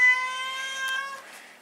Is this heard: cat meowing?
yes